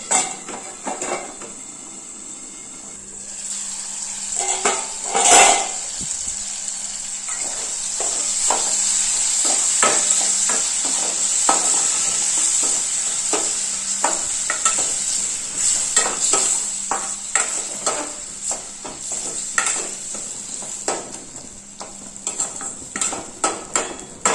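Tomatoes frying for a Tamil-style fish curry, with a steady sizzle in the pan and repeated scraping and clinking of a spoon stirring against the metal over about twenty-four seconds, no voices.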